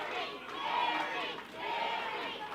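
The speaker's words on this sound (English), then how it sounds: "Big Daddy has the rest of the crowd, most of the crowd, going, Gary, Gary," Wrestling crowd at an arena chanting the name Gary in a steady, rising and falling roar, loud and continuous with many voices blended together.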